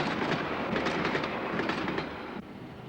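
A train with aluminium coachwork rolls steadily along the rails with a continuous rumbling clatter and rhythmic wheel clicks, loud and close, then eases off slightly near the end.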